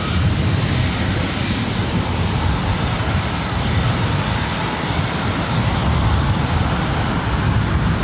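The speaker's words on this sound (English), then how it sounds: "This is Delta Airlines 2120 about to take off to Las Vegas on a 737-800" A Delta Air Lines Boeing 737-800 takes off at LAX bound for Las Vegas, its engines a loud, steady broadband jet roar with deep rumble that holds unbroken throughout.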